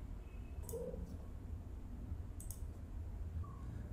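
Two quick, light mouse clicks while changing the page size in Microsoft Word, each sharp and brief, about two seconds apart over a faint steady hum.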